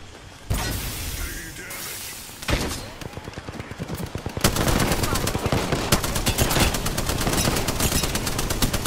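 Rapid gunfire in a first-person shooter game, starting with scattered shots and swells and building into dense sustained automatic bursts that dominate the latter half, loud and close.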